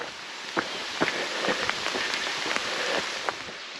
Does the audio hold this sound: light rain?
yes